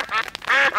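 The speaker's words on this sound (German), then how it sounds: "Die Enten mögen Brot." Cartoon ducks at a frozen pond give two quick, loud, close quacks with a short gap between them.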